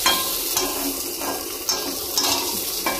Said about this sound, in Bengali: এখন আমি শুকনো লঙ্কা আর গোটা জিরে করে নিবি, তেল দিয়ে মুগের ডালটা ভাজছি।